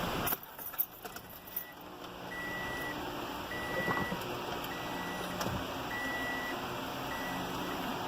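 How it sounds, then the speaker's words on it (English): Short electronic beeps repeat at a steady pace over a low vehicle hum inside a 2012 Toyota Camry LE, with a brief jangle of keys near the start. "What's beeping?"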